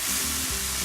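Tofu and onions with soy sauce sautéing in a hot pan, a continuous close, loud sizzle with a faint stirring scrape, no voices.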